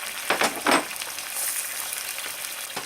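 Onions for Mexican-style Spanish rice sizzle in a hot pan, a bright steady hiss with a few louder crackling bursts near the start, close and alone with no voices.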